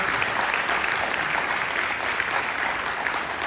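Audience applause at a French talk by a war doctor, dense continuous clapping from many hands, steady and fairly loud throughout without pause.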